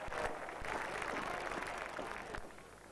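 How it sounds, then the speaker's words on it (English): A stadium crowd at a 1995 European hockey championship final applauds, a broad wash of clapping and cheering at moderate distance that thins slightly toward the end. "The crowd come to their feet."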